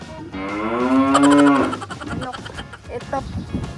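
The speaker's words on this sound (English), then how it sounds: "Let's ride the carabao." A carabao, or water buffalo, at a farm riding area gives a loud, drawn-out moo with a rising, wavering tone, followed by grunting and bustle as people talk nearby.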